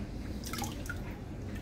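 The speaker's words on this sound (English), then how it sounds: "Now we're going to pack our jars. And then we're going to fill the jars with water." Water pours into canning jars packed with potatoes, a soft splashing trickle with a few bright drips, fairly faint and close.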